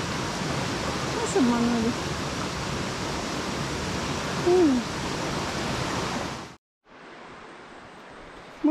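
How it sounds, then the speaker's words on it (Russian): A small waterfall on a river in Khao Sok, Thailand, roars as a loud, steady broadband rush close by, with brief talk over it before the sound cuts and resumes more faintly. "О, это река. Порог небольшой. Это водопад."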